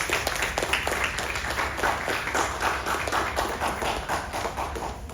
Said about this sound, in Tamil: அதனால அவங்களுக்கு மறுபடியும் ஒரு பலத்தை கைத்தட்டல் கொடுத்துருங்க.